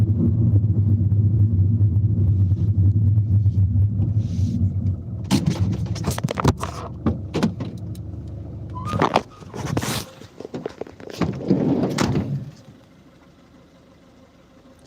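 Wheelchair van with a rear ramp driving past, its engine rumbling loud and near at first before trailing off, followed by scattered knocks and thuds.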